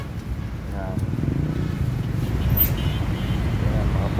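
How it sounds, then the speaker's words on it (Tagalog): City road traffic on Buendia Extension near MOA in Manila, heard from a moving motorcycle as a steady low engine and road rumble with wind, while a rider speaks over it. "Eh dito traffic na talaga."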